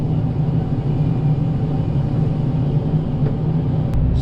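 Komatsu PC88 MR-8 excavator working in mud, a steady close engine rumble and hum running evenly throughout, with a faint brief click near the end and no talking.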